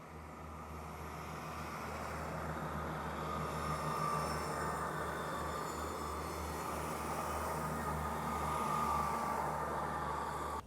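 A train rumbles through a station on the Huddersfield line, a sustained low drone and rolling wheel noise building gradually, then holding steady at close range, with no voices.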